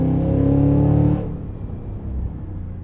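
The supercharged 682 hp V8 of a 2025 Cadillac Escalade V pulls hard under acceleration, a loud, close, rising engine roar that cuts off abruptly after about a second into a lower rumble.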